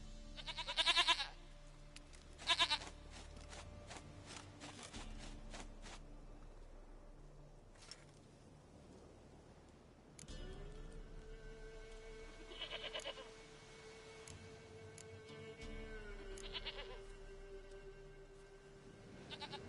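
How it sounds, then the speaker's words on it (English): Goat bleats from The Witcher video game on PS5, two short loud cries early on, then a few fainter bleats later over a quiet ambient game backdrop with a steady tone. "Goat of mine, dearest, sweetest goat."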